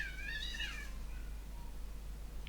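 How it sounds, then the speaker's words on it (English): Cats yowling and caterwauling outdoors during a fight, a few drawn-out rising and falling cries up close at the start that fade into a low steady background hum. "Some cats fighting outside."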